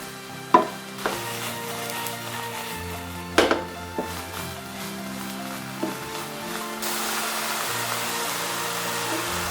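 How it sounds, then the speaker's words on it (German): Mung bean sprouts frying in a pan with a soft sizzle, broken by a few sharp clatters and knocks of utensils; the hiss grows steadier toward the end. "Mungobohnensprossen in die Pfanne geben, 2 Minuten braten."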